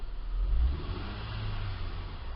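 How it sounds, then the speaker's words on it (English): A 2004 Acura MDX engine idles with cylinder 3 misfiring, making a low, steady, close rumble with a slightly uneven pulse throughout. "We're just idling right now, and cylinder 3 is misfiring just at an idle"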